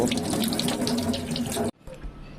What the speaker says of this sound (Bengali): এখন আমরা ফলটিকে ভালোভাবে ধুয়ে নেব